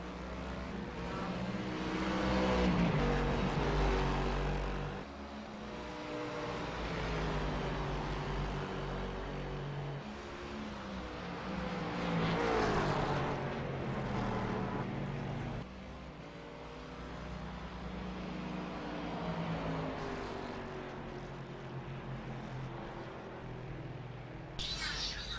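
Race cars in a DPSS race drone and rev steadily, engine notes rising and falling as they pass, with a commentator talking over the engines throughout.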